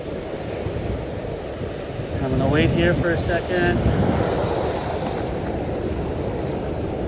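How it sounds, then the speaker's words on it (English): Ocean surf washes onto a beach during Pismo clam digging, a broad continuous rush buffeted by wind noise, with someone talking briefly over it partway through. "You can see this set of waves coming in right now."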